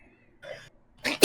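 A sneeze from a character in the detective game Emio – The Smiling Man: Famicom Detective Club: a short breathy intake followed by a sharp, loud burst at the end, heard alone without talk.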